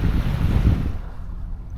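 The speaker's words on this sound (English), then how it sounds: "the waves are moving so much that it's hard to see into the water" Ocean waves wash steadily around a small boat while paddling and sailing near uninhabited spoil islands, a continuous low rumbling surge mixed with wind noise on the microphone and no talking.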